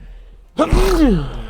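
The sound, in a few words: sneeze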